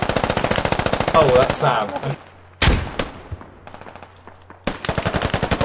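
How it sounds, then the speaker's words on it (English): Rapid machine gun fire in a team shooter video game, a dense rattling stream that cuts out, then single heavy shots and a renewed burst, with a voice briefly talking over it. "there's a lot of machine gun fire"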